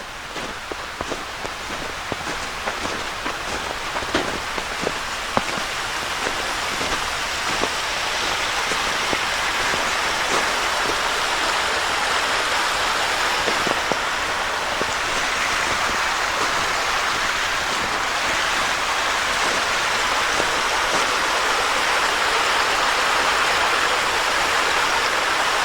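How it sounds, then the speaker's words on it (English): Steady rushing and trickling of a flowing icy stream on a snowy hiking trail, close by and continuous, with a few faint crunching steps early on. "there's a little spot over here with the stream."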